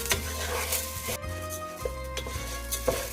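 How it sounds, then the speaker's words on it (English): A wooden spoon stirs risotto rice in a pot, making repeated scraping and rubbing strokes with soft knocks against the pot. The sound is close and fairly clear, with no talk. "Now keep stirring with a wooden spoon"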